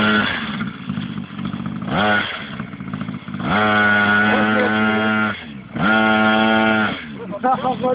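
A small motorcycle is ridden and revved by a learner, its engine rising and falling in loud, close bursts with a few brief idle dips, while people speak over it.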